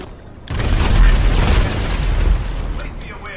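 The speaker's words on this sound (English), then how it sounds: "That was an explosion." A loud explosion booms in Grand Theft Auto, a deep broadband blast that swells and rumbles for about two seconds before fading, with gameplay noise trailing after.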